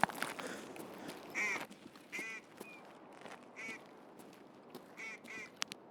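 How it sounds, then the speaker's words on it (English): In Escape from Tarkov, a duck quacks several times at middle distance, its honking calls spaced irregularly over quiet rustling ambience. "I hear a duck."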